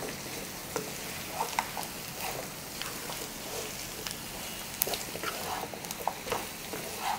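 Pumpkin pieces are stirred in a hot pan for a jaggery pumpkin fry, a soft, steady sizzle with scattered scraping knocks of the spoon, close and fairly quiet.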